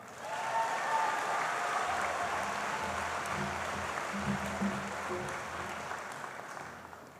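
A graduation crowd at a high school ceremony applauds steadily, a dense wash of clapping from many hands that holds for several seconds before thinning slightly toward the end.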